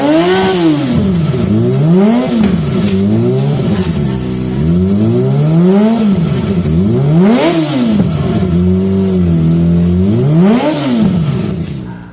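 Kawasaki Ninja ZX25R fitted with a DX Generation underbelly exhaust with a conical carbon end cap, blipped through a string of sharp rev climbs and drops, loud, close and raspy with no voices.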